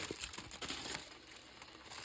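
An aluminium foil packet holding fish cooked in an air fryer is crinkled and torn open, giving a quiet, short burst of crackling that fades to a soft hiss.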